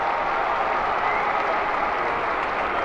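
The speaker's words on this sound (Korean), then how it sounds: "유상원은 박수 받아야지" A football stadium crowd at Seoul's Sangam stadium applauds a visiting Gangwon FC player: a broad, continuous roar of clapping and crowd noise, distant and even, with no break throughout.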